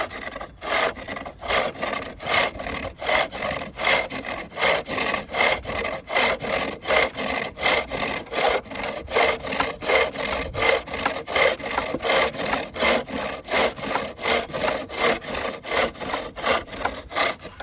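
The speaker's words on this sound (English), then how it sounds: "as the ball spins towards me, I take off a reciprocal shaving." A chisel takes shavings off a wooden bowl spinning on a reciprocating lathe, making a rhythmic rasping scrape that repeats about twice a second, steady and close, with no speech.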